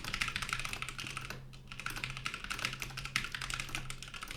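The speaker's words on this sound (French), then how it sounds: "en termes de niveau de frappe au clavier, vous pourrez constater que" Rapid, continuous typing on a mechanical keyboard with Cherry MX Brown tactile switches, a dense stream of close clicks and clacks with a brief pause midway.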